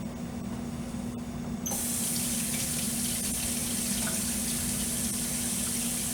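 Tap water runs steadily into a sink as a Granny Smith apple is rinsed under it, making a loud, continuous splashing hiss that swells slightly partway through and carries on alone.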